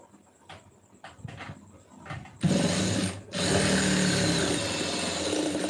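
A sewing machine stitching a lining blouse runs close by, starting with a few short bursts of stitching, then settling into a steady, loud mechanical whirr.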